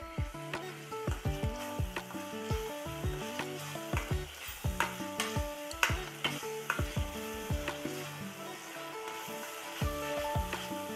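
Spicy kala masala mutton frying in a pan, stirred with steady scraping strokes over a soft continuous sizzle, quiet and close, with no voices.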